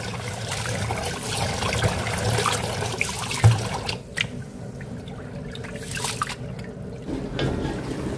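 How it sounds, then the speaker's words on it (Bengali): Rice being washed by hand in water in a home kitchen, making soft sloshing and trickling sounds with occasional knocks and drips, close and moderately quiet. "তো এর মধ্যে আমি হচ্ছে চালটা ধুয়ে নিচ্ছি।"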